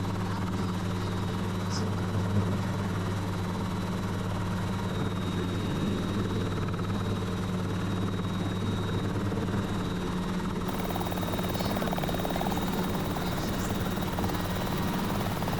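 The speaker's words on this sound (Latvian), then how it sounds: "šajā brīdī varēja redzēt, cik jūtīgas ir kontroles helikopterim un viena nepareiza kustība straujāk un visu helikopters griežās prom" A helicopter on its first test flight drones steadily throughout with a constant low rotor and engine hum, fairly distant and even, with no talk over it.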